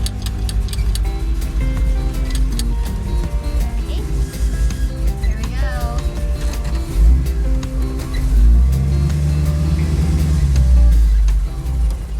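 A 1969 International Scout pulls away on a hot day, its engine a low, steady rumble that swells near the end, with people talking over it inside.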